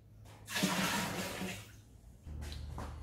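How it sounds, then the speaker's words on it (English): Water poured through a filter to rinse boiled, filtered ginger for home-brewed ginger beer, a soft close splashing trickle lasting about a second, then a second quieter pour. "I figured I'll just wash a bit of water through just to get the best of it"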